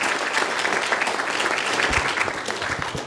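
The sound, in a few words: audience applause at a summit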